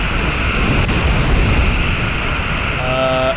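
Battleship firing at the player in a video game: a dense, continuous roar of heavy explosions and booming gunfire, loud and sustained throughout, ending with a tonal alarm-like whine.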